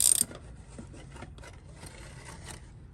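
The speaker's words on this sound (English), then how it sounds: "what I like to do, like I said, is kind of snug it up a bit with the ratchet." A ratchet clicking as it snugs up an oil filter on a Dodge Challenger Hellcat, a run of soft, closely spaced mechanical clicks and rubbing close by after a brief sharp sound at the start, with no talk.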